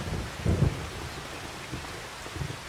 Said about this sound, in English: I think the rain's going to stop while we're inside